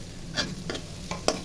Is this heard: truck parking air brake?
no